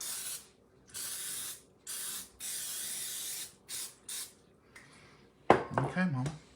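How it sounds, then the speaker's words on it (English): Canola cooking spray hisses onto loaf pans in a series of short bursts of varying length, close up, followed by the clatter of pans being handled and someone speaking. "we sprayed them here with just canola spray"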